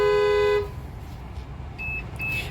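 From inside an old Maruti Brezza, an added Hella Black Pearl horn gives one short, loud, rich honk, then cuts off into low cabin hum with a couple of faint, thin beeps.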